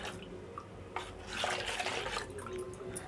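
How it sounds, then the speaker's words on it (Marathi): Water is poured into ground rice paste in a bowl for Malvani ghavne. It makes a soft, fairly faint splashing gush that swells midway and continues to the end. "वाटलेलं तांदूळ याच्यामध्ये पाणी घालून घेऊया"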